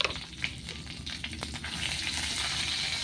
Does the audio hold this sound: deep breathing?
no